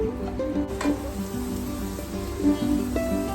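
Garlic fries in a pan while it is stirred to keep it moving, making a continuous close sizzle with occasional scrapes and clinks. A faint steady hum runs underneath, and no one talks.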